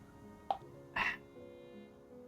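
A person gives a few short throaty burps, quick and close, separated by quiet moments in a calm indoor setting.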